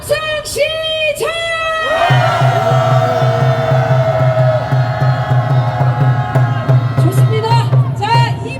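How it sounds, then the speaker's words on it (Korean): Crowd at an outdoor peace rally for wartime sexual slavery victims lets out a loud, sustained cheer and whoop after chanting slogans, a steady roar of many voices with shouts rising on top. "함성 시작!"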